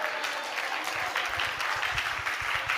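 Church congregation applauding during worship, a steady wash of many hands clapping at moderate distance, fairly even in volume for a few seconds with no voices.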